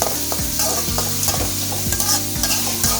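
Onions sizzle steadily in a hot pan while a utensil scrapes and stirs them in a regular rhythm, close up, with no voices.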